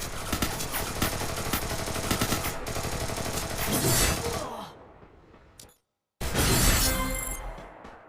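Dense gunfire from the Free Fire Max video game: rapid, loud bursts with crashing impacts that fade briefly, cut to silence, then erupt again.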